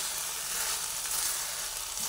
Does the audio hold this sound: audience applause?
no